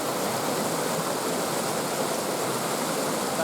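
A mountain torrent rushes in a steady, dense roar of flowing water, loud and close, continuous throughout with no voices.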